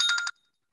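A mobile phone ringtone sounds briefly, a quick run of bright electronic tones lasting well under half a second before cutting off into silence.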